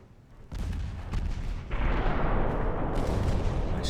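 Heavy battleship gunfire in the naval game Ultimate Admiral Dreadnoughts, a few loud booming salvos in quick succession building into a dense, sustained rumble of artillery.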